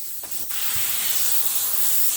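An airbrush sprays paint onto a goalie mask backplate at full pressure, giving a steady, close, bright hiss that starts after a couple of faint clicks and keeps going without a break.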